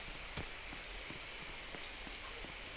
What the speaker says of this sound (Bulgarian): Както в момента виждате, то вали.